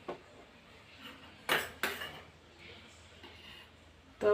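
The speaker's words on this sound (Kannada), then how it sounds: "ಈಗ ಗ್ಯಾಸ್ ಆನ್ ಮಾಡಿಕೊಂಡು ಒಂದು ತವಾ ಇಟ್ಬಿಡೋಣ." A tawa griddle is set down on a gas stove in a home kitchen, two close metallic clanks in quick succession amid quiet background, followed by a few lighter knocks.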